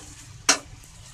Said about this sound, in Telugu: 2 స్పూన్స్ పెట్టుకొని ఫ్రై ఇలా మనము స్టైర్ చేసుకోవాలి.